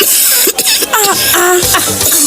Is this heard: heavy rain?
no